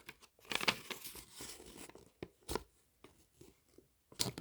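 Sheet of origami paper being folded into quarters for a paper-people craft, giving close crinkles, creases and sharp rustling snaps in uneven bursts with pauses between, and no talking.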